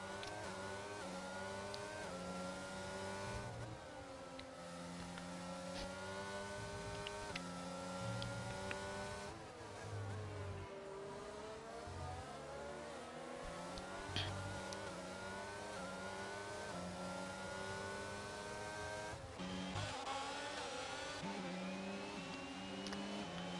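Race cars on the Bahrain circuit in a racing video game, engines whining and revving through gear changes, several cars close together, steady and continuous, with no voices heard.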